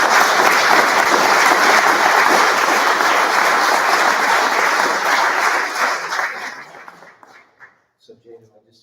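An audience at a business boot camp pitch competition applauds loudly for about six seconds, then the clapping thins out and dies away, leaving a few scattered claps and faint sounds at the end.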